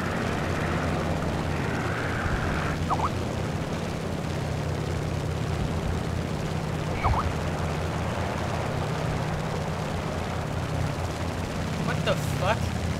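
Steady, droning drone of big bomber engines in War Thunder, loud and constant throughout, with a few faint gunfire pops and clicks over the top.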